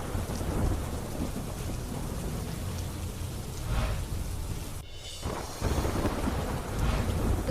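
Heavy rain pours steadily in a dense hiss, with low rumbling thunder underneath and a brief dip in the downpour before it resumes.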